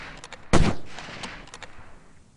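Rifle gunshot in the video game Delta Force 2: a single sharp, loud report with a short decaying tail, followed by faint distant shots fading in the background.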